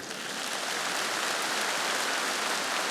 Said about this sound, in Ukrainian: Під оплески.